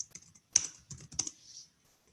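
Keystrokes on a computer keyboard, typed in short bursts with sharp clicks and pauses between them, fairly close and without any talk.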